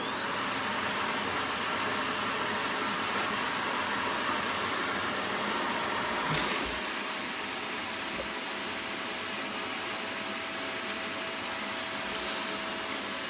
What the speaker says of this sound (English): I'm going to turn the vacuum on and then do the form.